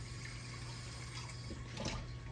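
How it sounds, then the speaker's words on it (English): Water poured from a container into a cooking pot of smothered beef and tomatoes, a steady close liquid splash and trickle running continuously for a couple of seconds. "A little water there and wash that out."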